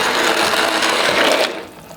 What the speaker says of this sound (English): And then I'm gonna use a hand blender.